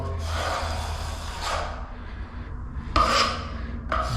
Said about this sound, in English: Put the plaster on.